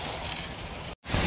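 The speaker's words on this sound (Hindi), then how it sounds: "देखो पूरा बारिश गिर रहा, अभी भी थोड़ा बहुत गिर रहा बारिश है" Steady rain falls on a car in Saudi Arabia, a dense broadband patter heard from inside that drops out briefly near the end and then returns louder.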